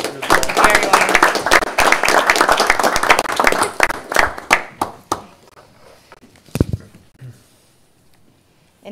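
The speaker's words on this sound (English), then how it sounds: "Thank you, round of applause." A school board meeting room breaks into a round of applause, loud dense clapping for about five seconds that thins into scattered claps and fades, with a couple of late isolated claps and some murmuring.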